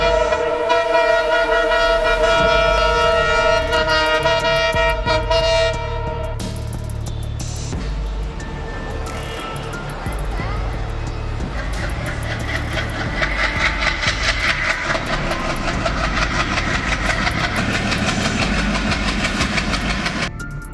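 At a rail crossing, a train horn sounds in long sustained blasts, then the train rumbles steadily past with a rhythmic clatter of wheels on track, loud and close throughout.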